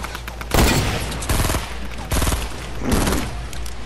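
Grenade launcher fire in a fast-paced shooter video game: about four loud, sharp blasts spaced roughly half a second to a second apart, each cracking out over a steady background rumble with no talking.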